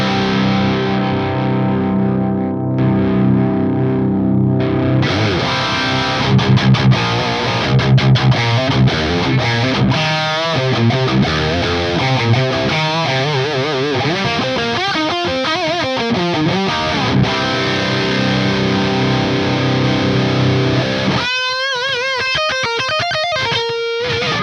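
Electric guitar through a FAS AX8 modeling the 5153 amp in 100-watt mode, heavily saturated and distorted, with sustained chords giving way to fast riffing and chugging, loud and continuous throughout.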